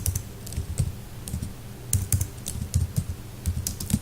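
Rapid keystrokes on a computer keyboard while writing Java code, an irregular run of close, crisp clicks with short pauses and bursts, no voices.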